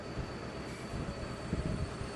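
A train in the Roblox game Rails Unlimited accelerates at full power, giving a low, steady rumble with rhythmic chugging pulses and a faint high whine. The sound is moderately quiet and unbroken.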